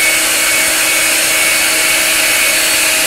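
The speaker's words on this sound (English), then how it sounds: "turn on our hair dryer and blow things all over the place" Loud, steady whine and airy roar of a hair dryer blowing continuously at close range, used to heat flute pads during pad replacement, with no voices.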